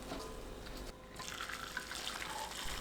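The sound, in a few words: hot seasoning liquid poured through sieve onto tofu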